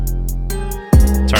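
Hip-hop beat with a deep 808 bass holding low under hi-hat ticks, dropping out briefly before a heavy bass hit returns with the full pattern, loud and up front.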